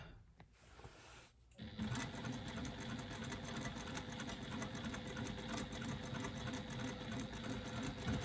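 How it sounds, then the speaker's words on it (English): A sewing machine runs steadily for about six seconds, stitching a zipper pocket on a facing panel, with a short back stitch at the start. The motor whirrs loud and close, with no talk. "So just a back stitch at the beginning to secure my stitching."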